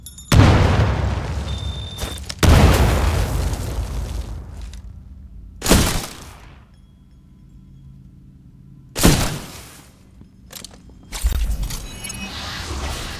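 Several heavy booms and bursts from Titanfall 2 grenade explosions go off one after another, loud and close, each trailing into a rumbling decay with quieter gaps between them.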